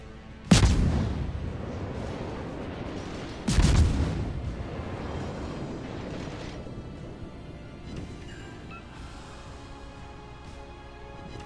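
A destroyer's naval guns fire in World of Warships: two heavy booming salvos about three seconds apart, each with a sharp crack and rolling rumble, followed by quieter fading battle ambience.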